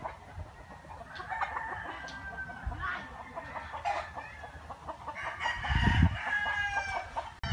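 Chickens in a mountain setting, with roosters crowing repeatedly and hens clucking around them, a lively overlapping farmyard chorus at moderate distance and no talking.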